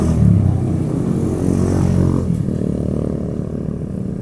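A motorcycle riding alongside a cycling race on a climb near Kelud, Kediri, its engine droning close by and slowing toward the end, with some clatter.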